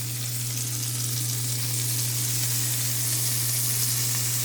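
Breadcrumb-coated morel mushrooms fry in a skillet with a loud, even, continuous sizzle close by, steady hissing spatter throughout with a low hum beneath.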